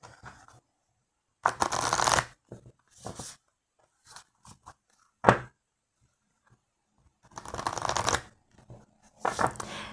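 Tarot cards are shuffled and cut, with several dense riffling bursts separated by quiet gaps and a sharp tap as the deck is set down. The sound is close and clear, with no voice.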